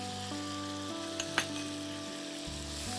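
Broccoli, red carrot and two whole onions frying in a pan for a Bengali fish stew: a steady, moderate sizzle close by, with a couple of brief clinks of a utensil and a low continuous hum underneath.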